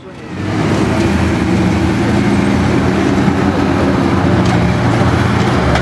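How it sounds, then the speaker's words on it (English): Two Daimler Dingo scout cars and a Humber armoured car, British reconnaissance vehicles, run their engines at a wartime museum, producing a loud, steady, close rumble that builds quickly and holds. "Looks like they've got the 2 dingoes running here along with the Humber armored car"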